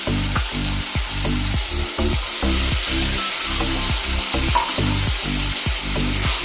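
Fried potatoes are tossed into a sizzling pan of egg fritter curry and stirred, giving a continuous frying hiss punctuated by regular, close scraping strokes against the pan.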